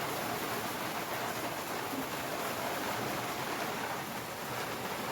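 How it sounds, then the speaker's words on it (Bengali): Heavy rain falling outside a rural home kitchen, a dense, steady broadband hiss that stays even and unbroken throughout, with no voices over it. "দেখতে পাচ্ছ প্রচণ্ড বৃষ্টি শুরু হয়ে গেছে"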